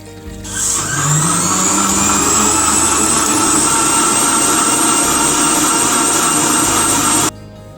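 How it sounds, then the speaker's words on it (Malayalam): A mixer grinder runs continuously, blending one litre of water with sugar: a loud, steady motor whir with a sharp start after a brief spin-up, holding for about six seconds before cutting off abruptly. "പത്ത് സെക്കൻഡോളം നമ്മൾ കണ്ടിന്യൂസ് ആയിട്ട് അടിക്കുന്നു വെള്ളവും പഞ്ചസാരയും മാത്രം"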